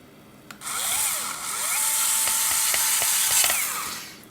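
A Worx electric drill on its lowest torque setting driving small screws into a thermal camera case during a repair, a near whine that spins up, holds for about three seconds with faint clutch clicks, then winds down.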